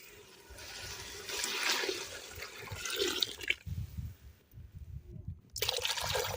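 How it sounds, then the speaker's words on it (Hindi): Water pours from close by into a pot of curry in a village home kitchen, a steady splashing rush that stops briefly partway through and then resumes, with no talking. "पानी मैंने डाल दिया सालन में।"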